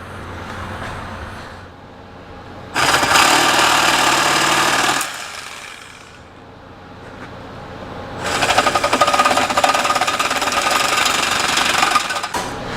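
Power tool cutting through a steel exhaust downpipe during a 12-valve Cummins swap on a 2010 Ford F350, in two loud, sustained grinding bursts of a couple of seconds and about four seconds, with a quieter idling drone between them; close and without talk.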